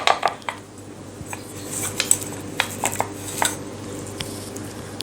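Coarsely ground pigeon peas being scraped into a vessel, with metal utensils clinking and scraping against the pot in light, irregular knocks, close by and fairly quiet.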